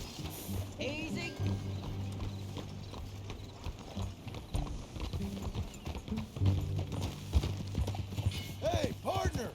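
Horse hooves clip-clop steadily through Red Dead Redemption 2, close and rhythmic, with occasional snorts over a low musical drone and scattered talk.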